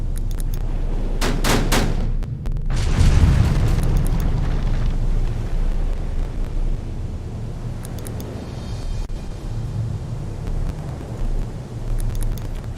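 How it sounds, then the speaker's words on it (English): A warship's gun fires in the naval game Victory at Sea: Pacific. Two sharp, loud blasts go off close together, then a heavy rumbling boom follows and decays into a long, low roar. "We're gonna fire one of the guns."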